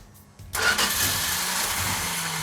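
A V8 engine in a GTX muscle car cranks briefly, then catches and settles into a loud, steady rumbling idle that runs close up and on its own.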